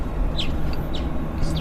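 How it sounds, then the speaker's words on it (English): Thin, high bird calls near Vancouver airport, a few brief chirps repeating faintly over a steady low rumble of ambient outdoor noise. "do you guys hear a nice bird?"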